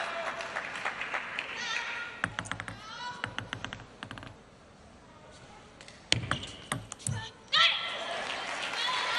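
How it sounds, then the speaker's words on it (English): Players and coaches clap from the bench at a WTT Europe Smash women's doubles table tennis final, with scattered bursts of clapping and ball taps heard under continuous commentary. "look at the applause from the Chinese players and coaches."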